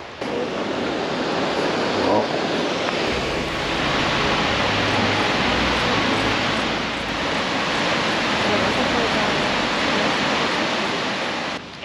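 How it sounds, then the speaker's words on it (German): Rotlech waterfall in the Lechtal near Berwang and Reutte, a steady broadband rush of falling water filling the whole stretch, loud and continuous with slight swells and wind mixed in. "Jetzt kommt gleich der Rotlech-Wasserfall."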